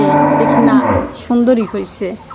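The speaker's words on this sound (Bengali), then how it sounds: "আমি ফোনে কথা বলা শুরু করলে মনে হয় আমাদের গরু ডাকাডাকি শুরু হয়ে যায়।" Cows on a rural Bangladeshi homestead mooing loudly nearby, one long drawn-out low at first, then several shorter calls in quick succession, with a person speaking briefly over them.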